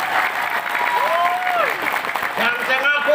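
Applause from an audience at a political speech in Indonesia, a dense steady patter of many hands with a voice speaking over it near the start and end.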